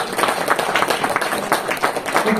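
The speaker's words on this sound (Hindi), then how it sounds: "आप भी ताली बजाओ" An audience claps at a talk on dairy milk, a dense patter of many hands applauding steadily and fairly close for a couple of seconds.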